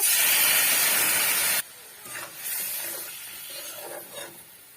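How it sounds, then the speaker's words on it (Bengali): Lemon juice poured into hot oil for a fish-head lemon sour dish, giving a loud broadband sizzling hiss for about a second and a half that cuts off abruptly, then quieter clatter and faint cooking sounds. "লেবুর রসটা এখন দিয়ে দেব"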